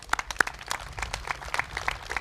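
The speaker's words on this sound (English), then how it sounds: "I want to give Paul Williams a big round of applause as well." Scattered applause at an outdoor groundbreaking ceremony for a new recreation center and library in St. Paul, a small crowd clapping in uneven, separate claps rather than a dense roar.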